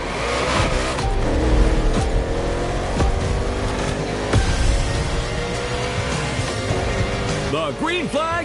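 NASCAR-style race cars roar through an urban street circuit in Hawaii in The Crew Motorfest, engines revving and shifting loudly, tyres squealing, as a commentator's voice talks over the racing.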